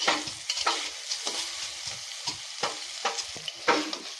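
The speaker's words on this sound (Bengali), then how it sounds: "খুব বেশি করিয়ে ভাজবো না কারণ খুব বেশি করিয়ে ভাজলে তরকারিতে বেগুনটা বেশি গলে যাবে" Eggplant pieces frying in oil in a pan, a soft continuous sizzle broken by repeated close scrapes and clinks of a spatula turning them.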